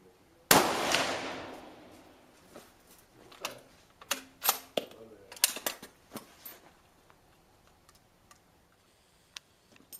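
A single loud rifle shot cracks out near the start and rings off, followed by a scatter of sharp metallic clicks and clacks as the rifle, fired from a bipod or without one, is handled.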